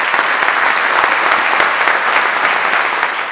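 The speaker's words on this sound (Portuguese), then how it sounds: "Um aplauso para eles todas as vezes." Audience applause at a municipal gala in Óbidos, a full, even roar of many hands clapping at close range, sustained without a break.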